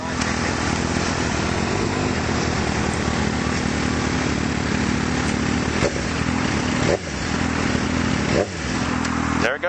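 Kawasaki 636 motorcycle engine idling roughly, steady and close, then dipping and cutting out near the end as it stalls at idle speed, with someone talking over it.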